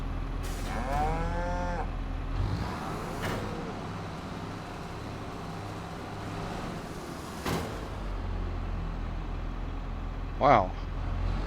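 Cows moo in the Farming Simulator 25 game, with a long low moo early on and a shorter one near the end, over steady machinery hum, while a person talks throughout.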